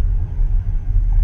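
A heavy truck rumbles past close by on a road, a deep low engine drone that swells and dips briefly, with no other sounds.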